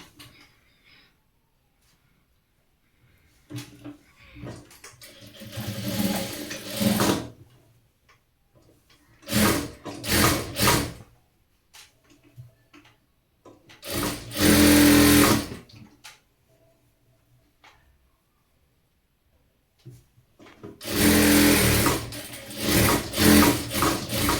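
A sewing machine stitching fabric for a child's garment runs in four separate bursts of rapid, even whirring and ticking, with near-silent pauses between them.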